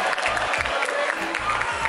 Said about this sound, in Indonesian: Tepuk tangan untuk yang Lex dan Awkarin loh.